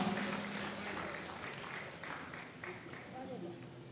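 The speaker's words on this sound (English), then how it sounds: "Please, a round of applause for him." Applause from an audience at a lecture, spread across a large hall, steady and moderately loud, with talk and crowd noise mixed in throughout.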